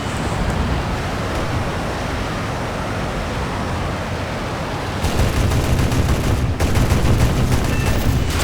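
Fighter plane guns firing in an air combat video game: a loud, continuous roar of wind and engine noise, then rapid, dense bursts of gunfire crackling over it in the final seconds.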